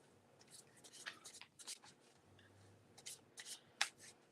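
Tarot cards being shuffled by hand, soft riffling and sliding bursts with a few crisp snaps, quiet and close, repeating in short irregular spurts.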